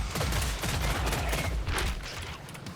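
Rapid bursts of gunfire from a sharpshooter's weapon in the shooter game Killing Floor 3, a loud, dense fusillade of overlapping shots that runs the whole length with almost no pause.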